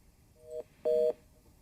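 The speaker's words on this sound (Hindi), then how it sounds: "मनीष जी, लगता है उनका फोन कट गया है।" Telephone line tones as a phone call drops during a live broadcast interview, two short electronic beeps, the second longer and louder, clean and isolated.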